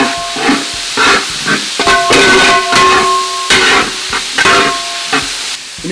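Small onions, green chilies and sliced onion dropped into a hot pan for Kerala chicken roast, giving a loud steady hiss and sizzle with intermittent stirring scrapes and clatter, no talk.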